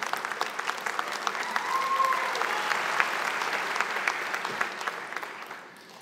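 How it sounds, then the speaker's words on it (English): An audience at a fall graduation ceremony applauds the finalists, a warm, steady round of clapping from a moderately distant crowd that swells, holds, then fades out. "Please give a round of applause for all of our finalists."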